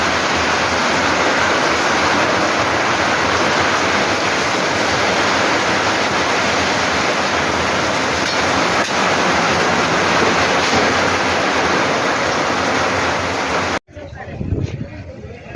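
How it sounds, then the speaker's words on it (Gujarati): Heavy rain pours down at home in a steady, dense hiss that holds level for about fourteen seconds, then cuts off abruptly to quieter background sound. "વરસાદ આવવા માંડે છે"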